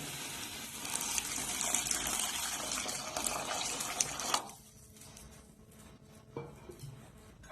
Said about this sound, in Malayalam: ഞാൻ ഇതിലേക്ക് പുളി പിഴിഞ്ഞ് ചേർത്ത് കൊടുക്കുക